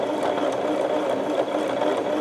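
Sewing machine running steadily as it stitches along a seam of a quilted potholder, a continuous close whirring motor sound with a light rapid needle rhythm, no voices.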